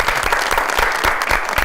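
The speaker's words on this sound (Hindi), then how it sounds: "खान साहब के लिए बहुत सारी तालियां जी।" A studio audience on a chat show breaks into dense, lively applause, a continuous crackle of many hands clapping at close range for a brief burst.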